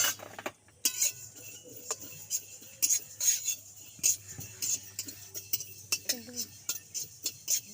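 Mustard seeds and cardamom dry-roasting in a pan, heard as repeated light metallic clinks and scrapes of a spoon stirring, close and fairly crisp, with brief sounds of movement between strokes.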